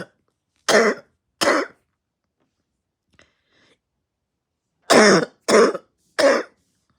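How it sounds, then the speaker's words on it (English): A hoarse, harsh cough from someone ill with flu, heard close up as two sharp bursts, a quiet pause, then three more rough coughs in quick succession. "I have this cough, this hoarse, horrific cough"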